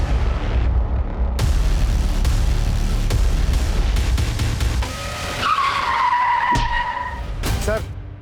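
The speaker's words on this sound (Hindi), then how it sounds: "जमील का एक्सीडेंट हो गया, उस पे किसी ने गाड़ी चढ़ा दी है।" A car skids loudly with screeching tires, then a heavy impact as the vehicle runs a man over, set against a dense rumbling background of a crime drama scene; a sharp skid squeal rises near the end.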